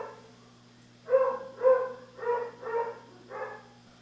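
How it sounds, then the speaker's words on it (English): A hunting dog barks five times in quick succession, muffled from upstairs, over a quiet steady hum. "You can hear my dog upstairs panicking"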